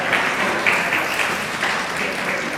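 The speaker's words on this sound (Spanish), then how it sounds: "Un aplauso porque a la primera." Church congregation applauding during a Sunday evening Bible study sermon, a short burst of steady clapping lasting a couple of seconds without speech.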